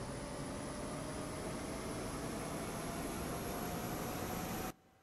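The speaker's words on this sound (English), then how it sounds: "So we're just waiting for the APU to come online." An A320's auxiliary power unit runs in the X-Plane flight simulator as a steady, loud broadband rush with a faint whine, holding constant before cutting off abruptly near the end.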